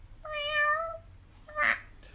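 A person imitates a cat's meow with the voice, giving one drawn-out tonal mew followed by a shorter, higher squeak, close and clear over a quiet low hum.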